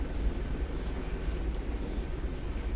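A steady, low rotor-and-engine drone from a helicopter in the video game DayZ, a continuous rumbling roar with no speech over it.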